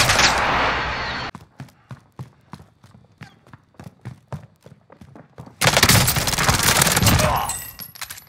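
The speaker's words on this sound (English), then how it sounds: "Friendly precision airstrike inbound." Gunfire and an airstrike in a first-person shooter game: a dense roar of firing opens, then a run of sharp, evenly spaced shots, before a loud sustained burst of explosions and fire closes it out.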